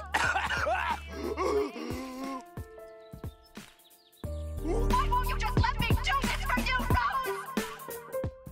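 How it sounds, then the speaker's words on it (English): A cartoon character from Steven Universe coughs and clears her throat in a raw, ragged, voice-acted fit, close and loud, broken by shaky vocal sounds with a soft musical tone underneath. "Tell me that isn't the most genuine cough you've ever heard in a cartoon"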